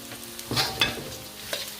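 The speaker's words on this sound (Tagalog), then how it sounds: "Now go back to our wok. Just pour in the onion" Onion poured into a hot wok and stirred for a Filipino pancit bihon guisado, with a short sizzle, a couple of scraping stir strokes and a brief clatter, close and fairly quiet with no talking.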